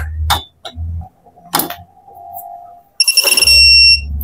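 A digital torque wrench beeps near the end in a rapid burst of high, piercing tones after the set torque target is exceeded, following a few clicks and clunks of handling the tool.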